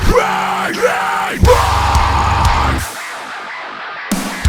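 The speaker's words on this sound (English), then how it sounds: "we have the screams, because no breakdown is truly complete without a bit of" Layered screams, high, middle and low, stacked for a metal breakdown, come as loud bursts of yelling in several stretches, some ending in abrupt cuts, with short gaps of near silence between them.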